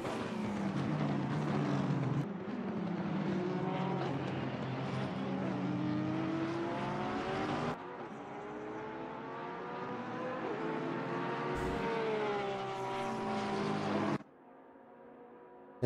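Race cars at Suzuka in Assetto Corsa Competizione scream past with rising and falling engine pitch, several cars in succession, loud and close before the sound drops away near the end.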